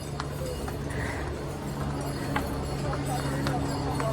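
Horse hooves clip-clop on the Kedarnath trek path, a run of distinct knocks under a steady background murmur of voices and trekkers on the mountain trail.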